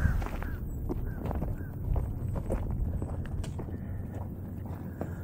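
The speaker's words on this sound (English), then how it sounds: "So I'm walking up to Glad's stall." Footsteps crunch and thud at an unhurried walking pace toward a horse stall, with a few distant bird calls in the background.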